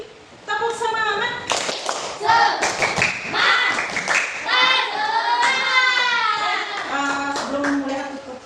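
A class of children performs a rhythmic clapping chant, claps and thumps landing in a steady pattern, with children's voices chanting over the beat throughout.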